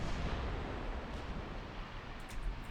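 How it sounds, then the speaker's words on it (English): In the naval warfare game Ultimate Admiral Dreadnoughts, torpedoes launch from two ships amid a dense, continuous rumbling roar of battle noise, loud and unbroken, with no voices. "Torpedoes away. From both ships."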